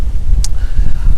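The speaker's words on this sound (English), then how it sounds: "as it's so windy, perhaps it's time to stop." Strong gusty wind buffets the microphone during an outdoor walk, a steady low roar with brief higher hiss bursts, loud and close, with no talking.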